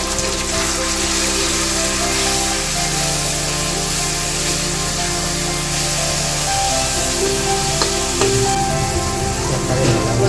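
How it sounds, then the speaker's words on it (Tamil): Tomatoes sauté loudly in a pan, giving a steady, close hiss and sizzle that runs continuously throughout with slight shifts in intensity. "இப்போ தக்காளி போட்டு வதக்கிக்கலாம்."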